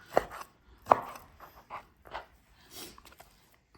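A knife chops through beef steak on a board in several separate, uneven cuts, with two sharper knocks early on and softer slicing sounds after.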